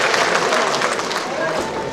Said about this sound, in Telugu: మీరు ఒకసారి గట్టిగా చప్పట్లు కొడితే సంతోషిస్తారు